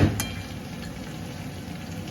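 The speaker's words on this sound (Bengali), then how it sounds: "আর একটু ভাজা হবে, আর 1 পিঠ ভাজা হলে আমি নামিয়ে নেব।" Potato Baadshahi snacks fry in oil, a soft, even sizzle with a faint bubbling texture and one short clink near the start.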